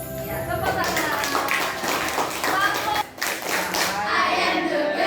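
Schoolchildren clapping hands in a classroom, a run of rhythmic claps with voices mixed in, a brief pause in the middle, then more clapping.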